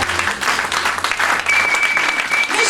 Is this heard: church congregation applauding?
yes